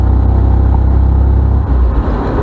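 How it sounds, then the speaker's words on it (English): Abandoned 1974 MGB GT, driven for the first time after 25 years with its exhaust loosely tied up under the floor, giving a loud, steady low engine rumble while driving, close and without talk. "The exhaust sounds pretty good."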